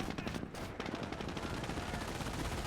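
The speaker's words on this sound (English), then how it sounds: "Meanwhile, this MG42 is managing to hold this line back." Dense, continuous gunfire in a Company of Heroes battle, with an MG42 machine gun holding a line among other weapons. The bursts run loud and unbroken for the whole stretch, with no clear gaps between them.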